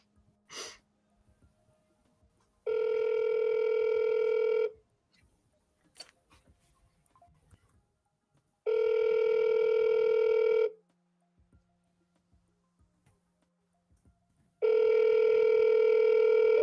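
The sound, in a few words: telephone call dialing and ringing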